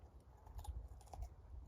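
A dog chews a sugar beet on a farm heap, giving short crunchy bites and wet gnawing at close range, with no talk.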